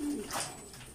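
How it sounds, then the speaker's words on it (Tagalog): A single brief, soft coo from pigeons entering a loft, heard faintly and close by against quiet background. "magpapasok ka na yung iba nating ibon, mga kalapatids"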